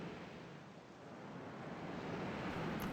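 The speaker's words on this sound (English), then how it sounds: "More waterfalls." Waterfall ambience in the online role-playing game Asheron's Call, a steady broadband rush of falling water that holds at an even, moderately loud level throughout, with no voices.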